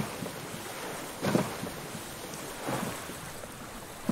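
Ocean waves in a video game, a low continuous wash of water with two soft swells of surf rolling in, faint and steady with no talking.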